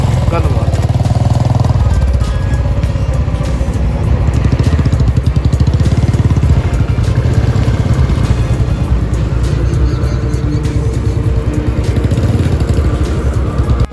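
Motorcycles idle with a low, steady rumble at a rally meeting point, a close engine running throughout while someone talks over it.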